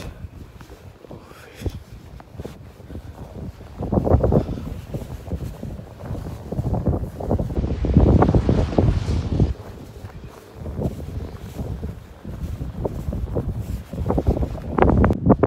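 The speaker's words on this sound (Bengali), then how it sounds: "সেই লেভেলের বাতাস" Strong wind in snow buffets the microphone in gusty, rumbling surges that rise and fall, with occasional crunchy thumps like footsteps close by.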